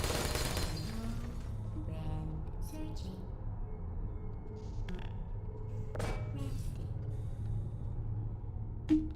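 Automated turrets in the puzzle game Portal fire rapid bursts of gunfire over a steady, noisy game background, with sharper shots standing out near the middle and the end.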